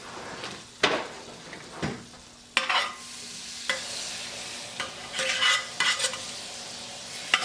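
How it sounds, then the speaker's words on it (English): A stick of salted butter melts in a pan over medium heat for lobster bisque, making a soft sizzle under sharp clanks and scrapes of a utensil, with a cupboard-like knock and occasional louder kitchen clatter. "We're going to melt a stick of salted butter in the pan"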